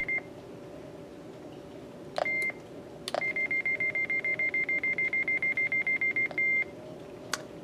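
A RATH emergency phone dials out with a pair of short beeps, then a rapid, evenly spaced run of dialing tones over a steady background hum, close and clear with no speech.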